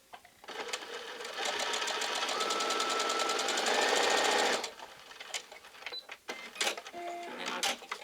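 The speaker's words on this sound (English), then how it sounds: "I'm just going to do a 1/4 inch stitch here." A sewing machine hums in a steady burst of about three seconds while stitching a quarter-inch seam on a quilt block, preceded and followed by fabric handling, small clicks and light clatter.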